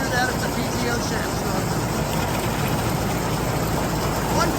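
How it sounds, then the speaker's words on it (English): A John Deere 730 tractor engine runs steadily with a continuous low, rough rumble at even loudness throughout, while a person speaks over it. "I'm going to get on the tractor now and take it down the road a bit."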